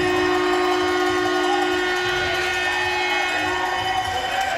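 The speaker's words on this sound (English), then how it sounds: "Sounds like KV brought their own steam whistle." A loud steam whistle blows continuously at the end of a game, a sustained piercing tone over crowd noise in a large echoing arena.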